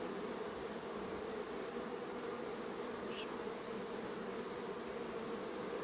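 Honey bees drone in a steady, dense buzz while a ten-frame hive is opened for inspection. The hum is close and continuous, with no voices.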